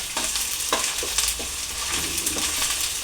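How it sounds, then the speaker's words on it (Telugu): Ginger garlic paste fries with onions in a pan for a fish curry, a steady close sizzle punctuated by several scraping stirs of a spatula, with no talking. "ఇప్పుడు అల్లం వెల్లుల్లి పేస్ట్ని 1 స్పూను యాడ్ చేసుకుందాం. మళ్ళీ పచ్చివాసన పోయే వరకు వేయించుకుందామండి."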